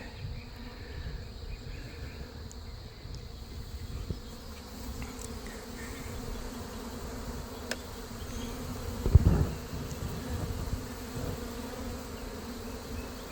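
Honeybees buzz in a steady, fairly faint drone throughout a swarm removal from a mobile home in Lakeland, Florida, with a few soft knocks and a brief louder rustle partway through.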